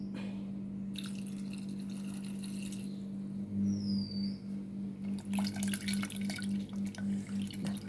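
Water goes into a pot of Kerala pazham pulissery curry seasoned with chili powder and turmeric, first a light trickle, then a rhythmic gurgling pour that pulses steadily over a low background hum.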